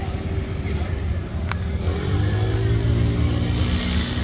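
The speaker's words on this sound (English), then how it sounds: "We have another Camaro. Huge supercharger on this one too." Supercharged Camaro pro mod drag car at an outlaw pro-mod event at Edgewater: a loud, steady low engine rumble with a deep idle drone and faint rising tones, close by, with a voice talking over it.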